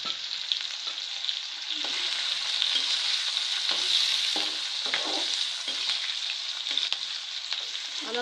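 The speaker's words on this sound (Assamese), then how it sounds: "পিঁয়াজৰ কালাৰটো অকণমান ব্ৰাউন কালাৰ হোৱালৈকে অকণমান লৰাই থাকিম।" Onion, bay leaf and dried chili frying in oil, a steady bright sizzle with repeated stirring strokes scraping the pan at an even rhythm, close and loud, no voices.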